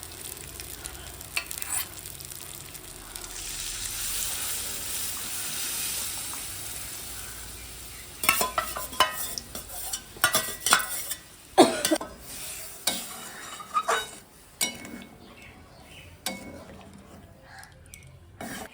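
Boiled mung dal stirred into fried spice paste in a pan: a soft sizzle and hiss at first, then a run of wet scraping and spoon-stirring strokes with sputtering, close and moderately loud.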